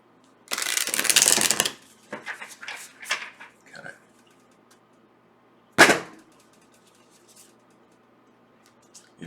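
Tarot cards are shuffled in a brisk riffle lasting about a second, followed by a few smaller flicks and taps, a quiet gap, and one more sharp snap of the deck.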